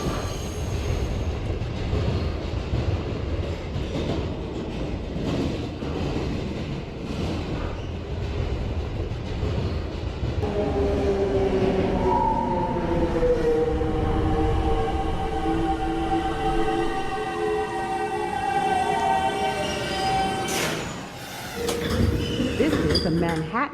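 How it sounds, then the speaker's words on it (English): A Manhattan-bound New York subway 1 train rides near Rector Street with a constant rumbling roar and rattle, then long rising and falling wheel squeals and tonal whines as it rounds curves, with a brief dip in noise near the end. "This is a Manhattan-bound 1 train."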